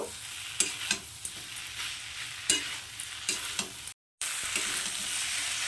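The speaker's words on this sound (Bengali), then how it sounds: "একটু ধরে এটাকে ভাজব" Drumstick stems and fried eggplant frying in a pan make a steady close sizzle with occasional spatula taps, a brief total dropout near the end, then the frying hiss resumes; nobody speaks.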